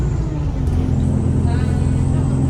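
Steady low engine rumble and road noise of a moving bus fill the clip, with a faint murmur of voices underneath.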